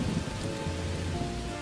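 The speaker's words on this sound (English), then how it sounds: "it rains when you're not expecting it" Rain falls in a steady, dense patter on a surface, close and continuous throughout.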